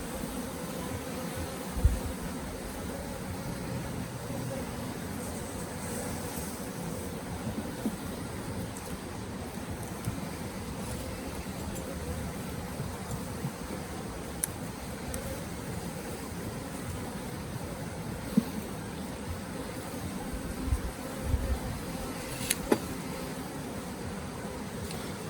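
Dense, steady buzzing of a mass of honeybees fills an open hive during a natural-beekeeping spring inspection, close and continuous, with a few small knocks and clicks from handling frames and no talking.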